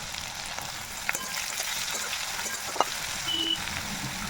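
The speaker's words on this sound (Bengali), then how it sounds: "তো পেঁয়াজটাকে আমি খুব ভালোভাবে একটু ভেজে নেব" Chopped onion with garlic and ginger sizzles gently in oil in a pan, a soft steady crackle with a couple of sharper clicks of a utensil stirring, quiet and close.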